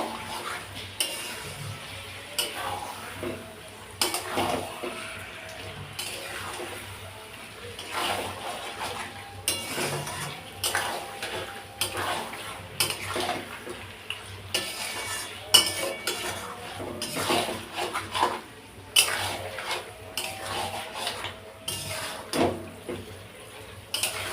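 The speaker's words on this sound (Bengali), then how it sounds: "মাংসটা খুব ভালো করে সব কিছুর সঙ্গে কষিয়ে নেব।" Meat being stirred and fried down in a pot with spices and other ingredients for a curry, a steady run of metal spoon scrapes and clinks against the pot over a low background hiss, with no talking.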